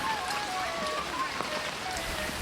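Steady, dense rainfall hissing across the whole clip in a village, a continuous wash of drops with no breaks and no voices.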